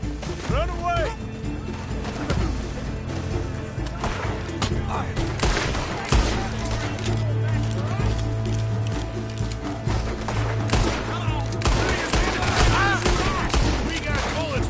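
Shootout in Red Dead Redemption 2 on PS4, with repeated loud gunshots in quick bursts and scattered single cracks throughout, mixed with shouting voices and game noise.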